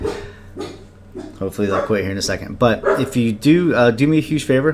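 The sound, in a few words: dog barking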